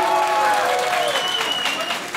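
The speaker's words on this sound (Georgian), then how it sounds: "ცოტა კიდე აპლოდისმენტები არჩილ" Crowd applause for the winner of a grappling match at a grappling invitational, steady clapping throughout with a voice talking over it.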